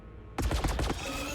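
Gunfire from the Warhammer 40k Battlesector video game erupts suddenly after a quiet moment as a rapid burst of several sharp, loud shots, followed by a lingering ring.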